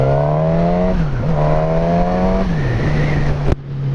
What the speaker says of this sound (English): Lovely bit of induction roar.